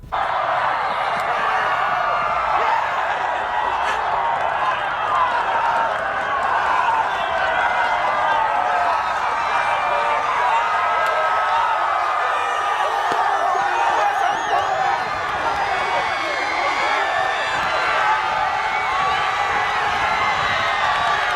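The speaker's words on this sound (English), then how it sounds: "Just listen to the crowd and watch this celly." A soccer crowd at a boys' high school CIF semifinal roars and whoops as a goalkeeper celebrates, a dense, steady wall of cheering with scattered shouts and some clapping, loud and sustained throughout.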